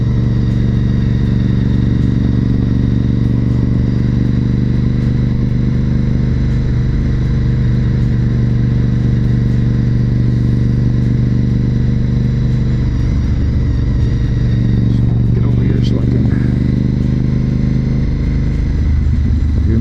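A steady, loud engine drone of a motorcycle cruising at speed on Highway 5 with wind and road rumble, briefly rising around the middle as traffic passes.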